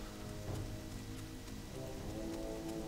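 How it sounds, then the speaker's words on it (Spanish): Rain falls steadily in World of Warcraft Classic at night, a soft continuous patter and hiss that stays even and fairly faint, with faint tonal game sounds underneath. "está lluvioso, eso sí, hay estrellas y lluvia"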